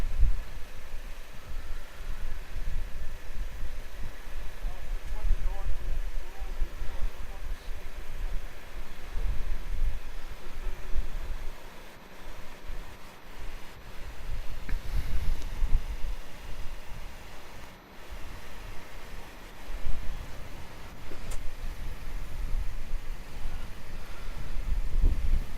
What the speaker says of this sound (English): Qantas 29 cleared for takeoff, heading to Hong Kong